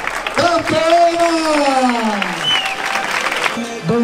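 Crowd applause for a women's trail race champion at an outdoor finish area in Cuevas del Becerro, Málaga, steady clapping throughout while someone speaks loudly over it on a public address.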